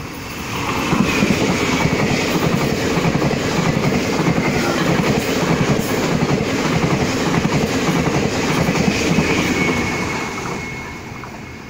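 A Taiwan Tze-Chiang push-pull express train passes close by, giving a loud, sustained roar and rumble with rail clatter that holds steady for about ten seconds before easing off.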